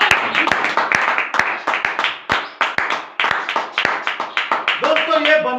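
Congregation at a Hindi-language Christian sermon bursts into loud, rhythmic group clapping, sharp repeated claps filling the space with crowd noise and voices mixed in.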